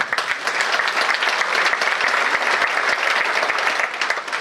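Dense, steady applause from a large audience at the Altın Koza 2025 award ceremony honoring recipients, loud and continuous with scattered sharper individual claps and no talk.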